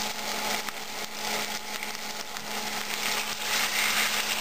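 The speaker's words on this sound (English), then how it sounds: "Fry up these." Veal steaks sizzling in a pan with a little canola oil, giving a steady, loud, broadband frying hiss that runs continuously without any talk.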